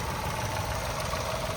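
Mahindra XUV300 W6 with a 1.2 litre turbo petrol engine, 2023/24 model, idles in a steady, even hum with a low rumble, loud and close throughout, with no voices.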